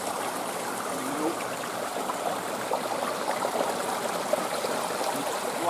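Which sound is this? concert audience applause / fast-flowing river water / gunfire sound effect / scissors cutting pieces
fast-flowing river water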